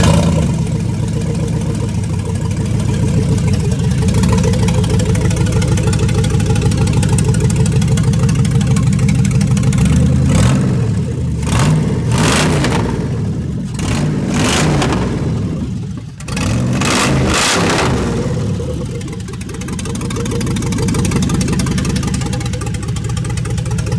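The 6-liter engine in a 2002 Grand Prix runs loud and close, holding a steady idle, then revs in several sharp blips before settling back to a rough idle, with no talking.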